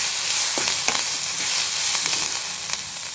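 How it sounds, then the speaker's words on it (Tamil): Pirandai (adamant creeper) stems, tamarind and curry leaves sauté in a hot pan for chutney, a steady close sizzle and hiss with a few soft stirring clicks throughout, no voices. "பாருங்கள், வதக்கிட்டு இருக்கேன்."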